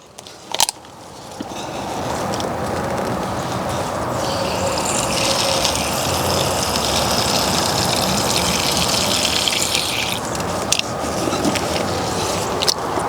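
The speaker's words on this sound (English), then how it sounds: "I'm going to add some rainwater to them since all the water just came out of it" Rainwater pours steadily from a container onto potted sweet potato slips outdoors, a continuous gushing splash lasting several seconds, close and fairly loud with no talking.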